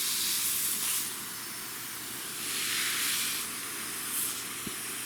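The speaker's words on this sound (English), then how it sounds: "you spray them down, you get them wet" Water sprayed onto hardwood pellets used as animal bedding, a steady broadband hiss that swells and fades in a few bursts, fairly close, with no talking.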